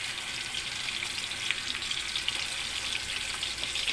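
Ginger garlic paste frying in butter in a pan for biryani gives a steady, close sizzle, an even hiss that holds for the whole stretch with a few small pops and no talk.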